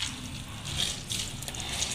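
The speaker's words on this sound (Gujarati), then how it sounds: "લાડવો કરીને બધું પાણી આપણે કાઢી લેવાનું છે" Grated bottle gourd is pressed by hand into a ball to squeeze out its water for halwa, giving a brief, close trickle and splash.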